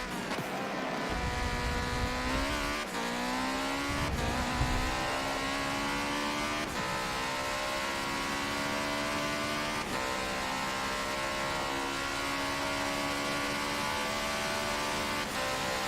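A Porsche 962 race car in Forza Motorsport 7 drones loudly and steadily throughout, its engine pitch climbing again and again through a series of gear shifts, with no talking.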